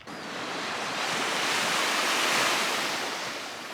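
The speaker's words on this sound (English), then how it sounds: "we can already hear the waves crashing" Ocean surf crashing onto the beach at Wineglass Bay, Tasmania, a steady, loud broadband wash that swells toward the middle and eases slightly, with no voices.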